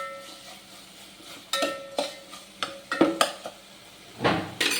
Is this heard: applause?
no